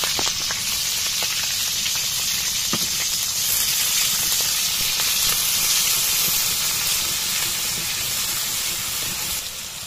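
Green chilies, onions, and ginger, garlic and spice pastes sizzle and hiss loudly and steadily in hot oil, a close continuous frying roar for a village-style country chicken biryani.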